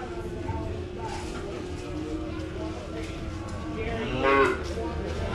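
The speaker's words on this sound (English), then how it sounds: "We're going to bring the mamas in." Cows brought into a livestock auction ring with their calves, cattle moving and lowing over a busy sale-barn background, with one louder moo near the end and an auctioneer's voice heard throughout.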